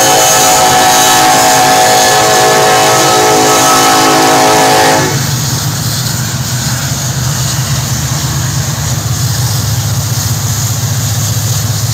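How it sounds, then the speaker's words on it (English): Union Pacific freight train rolling through Effingham, Illinois, its horn sounding loudly and continuously for about five seconds, then giving way to the steady rumble and clatter of rail cars passing close by. "So we got the train coming."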